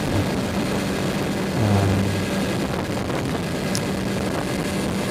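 Kawasaki Ninja 636 sport bike ridden in fifth gear, a steady rough engine drone under heavy wind rush, with a brief low swell near the middle and no talking.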